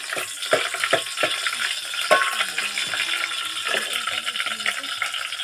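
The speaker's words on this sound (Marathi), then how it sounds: "तेल आणि लसूण टाकलेलं आहे आणि थोडासा हलवून घेत आहे" Garlic fries in hot oil in a pan for a spicy crab curry while it is stirred, making a crackling sizzle broken by irregular scraping and clinking strokes of the spoon.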